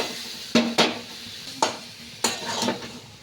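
Boiled Maggi noodles dropped into a pan and stirred, a few sharp metallic scrapes and clanks over a soft sizzle, close and brief.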